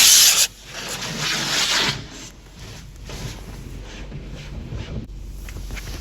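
Car rolling through an automatic car wash: rubbing, swishing brushes and spraying water against the body and windows, a loud burst at the start then a steady scrubbing wash that continues to the end.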